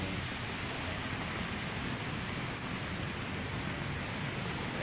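Heavy rain falls steadily over Manila Bay, a dense, even wash of noise that stays loud and unbroken throughout, with no voices.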